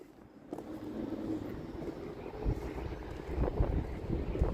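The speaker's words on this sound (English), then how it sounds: "Let's get out of the wind here." Wind gusts blow outdoors beside a truck, with low rumbling buffets and scattered knocks rising toward the end, moderately loud and without any talking.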